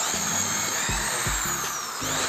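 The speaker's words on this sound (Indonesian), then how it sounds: "ternyata lancar ya untuk pengeboran dengan mata bor maksimal seperti ini, karena memang putaran dari mesin bor ini 3800 rpm untuk pengeboran kayu" A DCA AJZ01-6A electric corded drill running at about 3800 rpm bores into wood with a large bit, giving a steady high whine with rhythmic low thuds as the bit chews through, close and loud.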